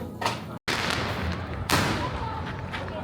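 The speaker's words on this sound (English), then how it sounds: "We appreciated how readily available fireworks were." Fireworks bang during New Year celebrations in Sarajevo, two sharp loud blasts with a rumbling crackle between them, against a constant noisy outdoor background.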